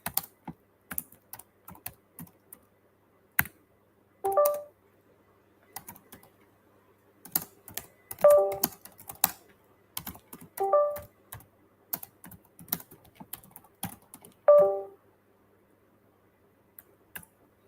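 Fingers typing on a computer keyboard, close and crisp, with irregular bursts of key clicks and occasional louder taps spread across the whole stretch, no voices.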